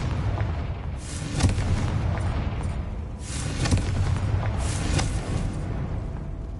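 Confringo, an explosive fire spell in the Hogwarts Legacy video game, blasting in several deep booming bursts spaced about two seconds apart over a rumbling background, loud and close, without speech.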